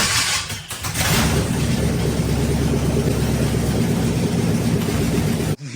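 A Chevy 383 stroker V8 in a rear-wheel-drive Honda CRX hot rod runs steadily with a loud, rumbling idle that holds for about five seconds before cutting off abruptly, with no talk.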